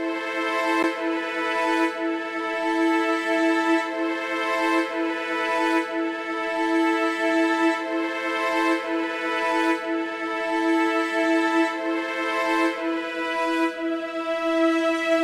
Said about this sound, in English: I layered all the sounds with a string that sounds like this.